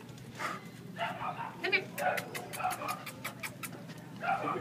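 A dog at a city animal shelter pants and gives soft whimpers and yips, close by and fairly quiet, while a person talks to it throughout.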